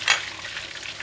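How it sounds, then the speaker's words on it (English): Spring onions and parsley stirred into hot chilli garlic oil with the heat switched off, a brief scraping swirl with a soft sizzle that peaks early and then fades to a low hiss. "Give it a mix."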